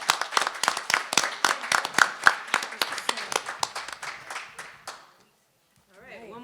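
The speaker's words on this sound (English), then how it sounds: "One more round of applause for our panelists." Audience applause for the panelists at a women in public life panel discussion, a steady run of close, dense hand claps lasting about five seconds before cutting off, followed by faint talk.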